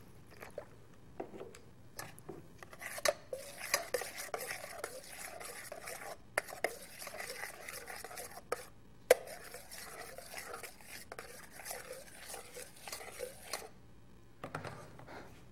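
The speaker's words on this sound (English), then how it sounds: "we'll add a bit of milk so that the mixing will go a bit easier" Mac and cheese with a splash of added milk is stirred in a bowl, giving soft, quiet scraping and squishing strokes in an irregular rhythm, close by with no talking.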